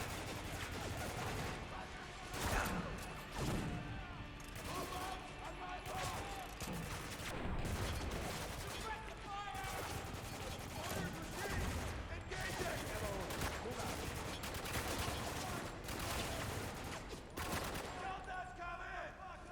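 Heavy machine gun fire in Spec Ops: The Line: long, dense bursts of rapid shots roar almost without pause, mixed with shouted combat voices and other battlefield noise.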